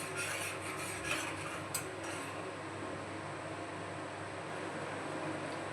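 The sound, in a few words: stirring sugar into the jelly mixture until it dissolves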